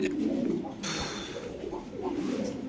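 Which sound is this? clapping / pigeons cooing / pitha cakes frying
pigeons cooing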